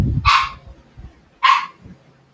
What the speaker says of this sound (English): I got my dog back there barking.